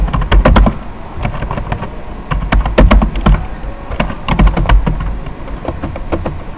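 Rapid, irregular clatter of keys on a computer keyboard while a CV is typed in Microsoft Word, close and loud, with bursts of keystrokes and short pauses.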